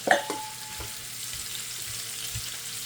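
Cut squash pieces drop into a hot frying pan with a sharp initial crackle, then settle into a steady close sizzle and fry with light stirring scrapes and no talking.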